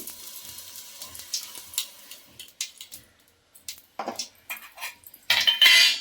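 Metal spoon clinks and scrapes against a biryani pot while ghee is added, in irregular bursts, with a louder clattering flurry near the end; no talking.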